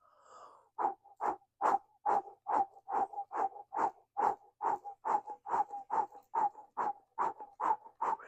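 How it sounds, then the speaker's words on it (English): Rapid, rhythmic breath of fire breathing through an O-shaped mouth, quick huffing inhales and exhales repeating steadily about twice a second, close and fairly quiet, with no talking. "inhaling and exhaling a rapid breath"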